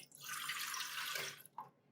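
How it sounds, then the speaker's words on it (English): Warm water mixed with half-and-half is poured into a bread machine pan: a steady splashing liquid stream for about a second and a half, then a brief trailing drip. "So this is a 1/2 cup of warm water with a 1/2 cup of 1/2 and 1/2. Going in."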